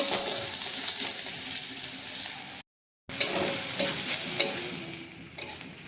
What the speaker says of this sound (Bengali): দিয়ে দিলাম পেঁয়াজটা প্রথমে ভাজা ভাজা করে নেবো একটু লাল লাল করে ভেজে নেব